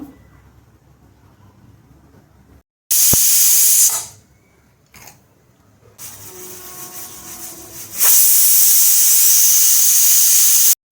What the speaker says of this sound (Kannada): ಒಂದು ವಿಜಿಲ್ ಅಥವಾ ಎರಡು ವಿಜಿಲ್ ಹೊಡಿಸ್ಕೊಂಡು ಅಷ್ಟೇ ಸಾಕು